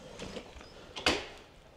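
A door into the sanitary building of a campsite in the Harz swings open with a single short mechanical creak and clunk of its latch and hinges, heard close and alone against quiet background.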